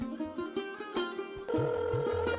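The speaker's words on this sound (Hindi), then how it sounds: "अर्जुन माँ को फोन करता है, लेकिन कॉल नहीं लगती" A telephone bell rings in repeated short bursts, moderately loud and close, with a sustained ringing tone in the second half.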